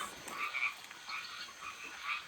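Frogs or toads croak in a steady, rippling chorus with repeated pulsing calls, faint and distant, with no talking.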